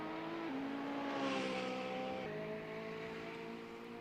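An Alfa Romeo race car brakes hard into a corner, its engine note stepping down through several gears in distinct drops, heard at moderate distance and fairly quiet, with no talk over it.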